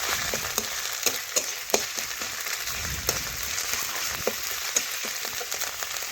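Sizzling crackle of onions frying in oil as ginger, cumin and garlic paste is stirred in, with scattered spoon scrapes and pops over a steady hiss, close and moderately loud, no talking.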